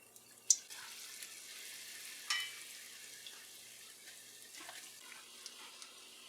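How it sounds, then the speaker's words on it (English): Quiet sizzling of eddo balls frying in oil, a soft steady crackle with a few sharper pops and clinks. "We are on the last, frying the last 4 now."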